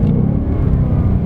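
A 2024 Ford Mustang GT with a V8 engine drives on a gymkhana course, its loud, steady low rumble close and continuous with no break.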